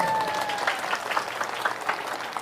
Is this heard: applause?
yes